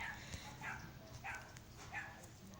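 Several short, faint dog barks from a video game repeat at a steady rhythm, sounding distant and slightly thin against a low background noise.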